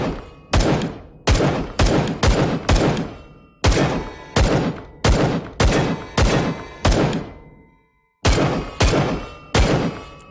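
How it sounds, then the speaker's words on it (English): Gunfire in the VR shooting game H3VR: about sixteen sharp, loud shots in an uneven rhythm, some in quick pairs, each with a short decaying echo. "How about we shoot this? Double hit!"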